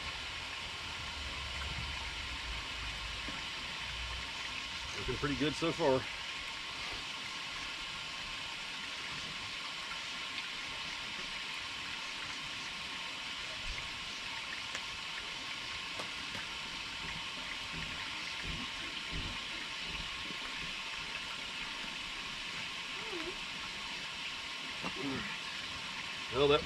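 Water flows steadily through the plumbing of a Casita RV, a constant moderate rushing hiss that continues throughout, with a few brief clattering bumps and someone speaking briefly over it.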